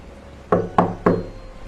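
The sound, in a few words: sudden knocking on a door at night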